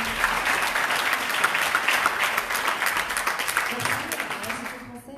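Enthusiastic crowd applause at a debate after a documentary film screening, dense and sustained, with voices mixed in before it tapers off at the end.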